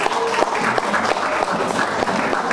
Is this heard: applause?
yes